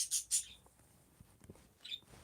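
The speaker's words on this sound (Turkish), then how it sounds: "Yine kuş sesi oluyor." A bird chirps nearby, two sharp high tweets in quick succession and then a third a moment later, with faint thuds and quiet room noise between them.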